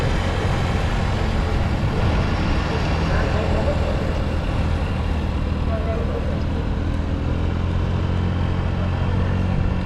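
Steady, dense engine roar from several drag racing cars at a dragway running continuously without a break, loud and close, with a heavy low rumble throughout.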